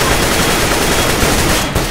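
Sustained, dense automatic gunfire from a CS:GO match rattles on loud and unbroken for about two seconds, with a brief dip near the end and no voices over it.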